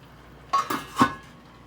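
A metal lid set onto a cooking pot while making a Gujarati brinjal and potato curry, two or three short close clinks and a final louder clank in a quiet kitchen.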